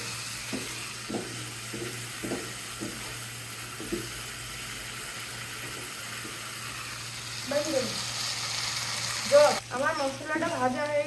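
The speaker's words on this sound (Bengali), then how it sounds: "চামচ দই দিয়ে দেবো। ভালো করে ভেজে নিতে হবে।" A spice paste with yogurt fries in a pan, giving a faint, steady sizzle with small bursts, and a voice comes in near the end.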